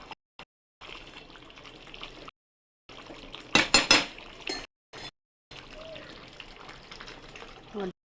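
A lid clatters onto a pot of cooked chicken curry, a short burst of metallic clinks and knocks at close range, with quieter kitchen handling and a voice talking before and after.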